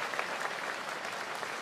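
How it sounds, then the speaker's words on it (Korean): Steady applause from an audience at a Buddhist ceremony, a dense even patter of many hands clapping with no gaps, fairly distant and continuous throughout. "박수 부탁드리겠습니다"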